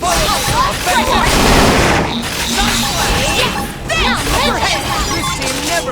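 Gunfire rattles during a battle in Xenoblade Chronicles X, with loud bursts and crashing impacts clustered near the start and again later, mixed with game voices and combat effects.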